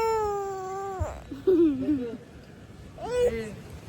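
Pet cat Coco cries out in a few drawn-out meows and wails, close by, with voices talking in between the cries.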